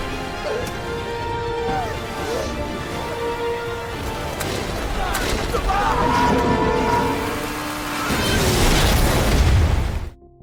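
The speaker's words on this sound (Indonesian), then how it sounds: "Kapal itu pun kemudian meledak," A ship explodes in a zombie film, with booming, crashing blasts that swell and build in the middle before cutting off abruptly, over dramatic film audio.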